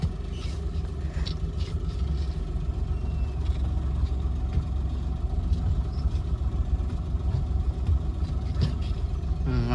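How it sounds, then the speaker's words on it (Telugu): A Maruti 800 car's engine runs steadily at low revs as a learner driver eases the clutch out and pulls away, a continuous near rumble with faint background clatter. "మెల్లగా క్లచ్ వదులుకుంటా ఎక్సిలేటరీ"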